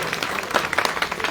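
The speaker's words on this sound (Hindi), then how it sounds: "मैं एक बार कहूंगा सबके लिए जोरदार तालियां एक बार होनी चाहिए" Dense applause from a crowd at a political rally in Lucknow Cantonment, a steady patter of many hands clapping with brief swells, close and loud, without speech over it.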